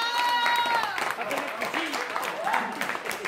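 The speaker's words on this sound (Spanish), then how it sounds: "¡Aplausos!" Audience applause and cheering at a comedy variety show fill the room, with voices and shouts mixed into the clapping and a melodic tone in the background.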